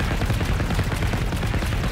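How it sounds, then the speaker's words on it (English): Enemies in Generation Zero fire continuous, loud automatic gunfire, one unbroken rattle of rapid shots that fills the whole moment with no talk over it. "I don't know why these guys keep shooting."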